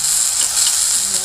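Chopped okra sizzles in a spoonful of oil on a flat pan, a steady, bright, close hiss with no pauses and no voices.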